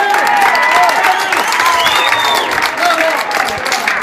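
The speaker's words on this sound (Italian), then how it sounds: "Un applauso." An audience claps at an outdoor evening concert in Trinitapoli, continuous and fairly loud applause with crowd noise, and voices and tonal sounds mixed in over the top.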